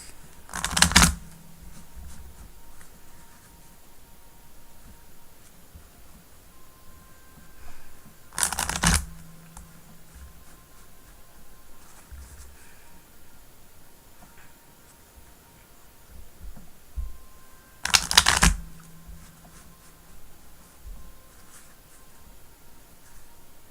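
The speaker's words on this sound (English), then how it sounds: "My idle animation is shuffling cards now." Tarot cards are shuffled in three separate bursts of quick riffling clatter, close and crisp, spaced several seconds apart with near quiet between them.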